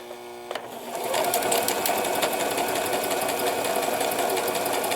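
A Brother XL-3750 household sewing machine, bought secondhand cheaply, starts up after a brief click and stitches with a fast, steady mechanical whir and rhythmic needle clatter, close and loud with no talking.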